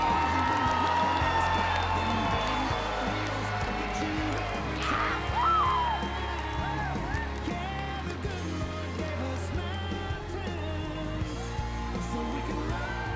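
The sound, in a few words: crowd applause and cheering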